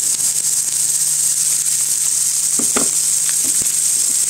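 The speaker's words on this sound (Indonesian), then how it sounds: "Tumis bawang putih dan bawang bombaynya sampai sedikit layu." Garlic and onion sauté in a hot pan with a steady, bright sizzle that holds evenly throughout, close and fairly loud, with a few soft clicks of stirring near the end.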